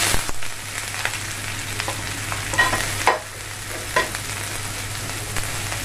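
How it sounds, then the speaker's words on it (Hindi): Onions frying in oil with mustard seeds and curry leaves for upma, a steady close hiss and sizzle with a few light stirring scrapes against the pan, no voices. "ये हमारा ऑनियन कलर नहीं चेंज करेगा तब तक हम इसे फ्राई करेंगे।"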